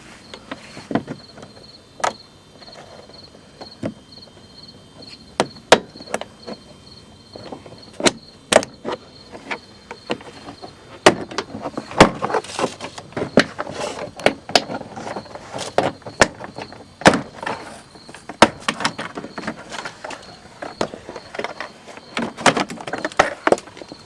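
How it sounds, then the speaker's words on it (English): Plastic fasteners being pried out of a GMC Envoy door panel by hand, a series of sharp clicks and snaps spaced irregularly, denser toward the end, over a faint steady hum. "go up into the fastener and kind of pry it out that way"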